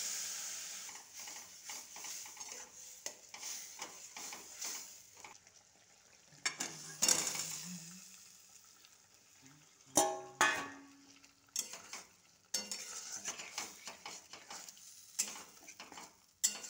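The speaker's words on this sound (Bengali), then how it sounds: "এইভাবে আমি কষাতে থাকবো।" Vegetables being stir-fried in a pan, kosha style, with a soft background sizzle and repeated close scrapes and knocks of a spatula against the pan, irregular and sometimes sharp, with no talking.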